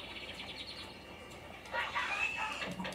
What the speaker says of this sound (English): It's the Fruit Loop bird.